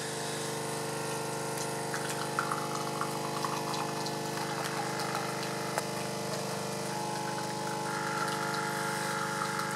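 A Cremesso Compact One capsule machine brews a lungo, its pump humming steadily and loudly for about ten seconds with a gushing, watery edge and small clicks on top, no talk.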